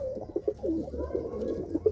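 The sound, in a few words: pigeons cooing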